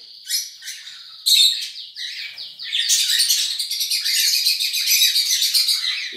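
A pair of harlequin cinnamon white-faced birds gives bright, high chirps. Calls start in scattered bursts and build into dense, continuous twittering, close and fairly loud, with no voices.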